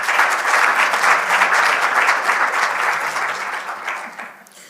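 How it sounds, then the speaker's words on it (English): Audience at a research symposium applauding emerging manufacturing researchers. Dense clapping runs loud and steady, then thins and fades toward the end. "A round of applause to them as well."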